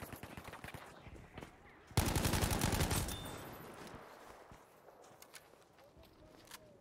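Gunfire in Battlefield 5 multiplayer gameplay, with a loud close burst of rapid shots lasting about a second, then fading echoes and faint distant shots under a busy game background.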